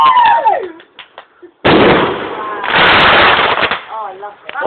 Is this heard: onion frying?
no